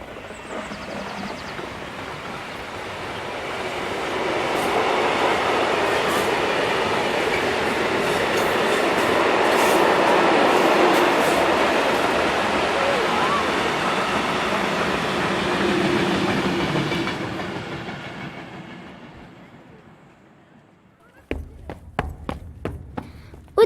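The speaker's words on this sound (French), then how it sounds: "C'est là qui passe le train qui transporte des dizaines de voitures" Freight train carrying dozens of new Peugeot cars rolls along a railway, a loud sustained rumble and rattle of wagons that builds, holds, then fades away, followed by a few sharp clacks near the end.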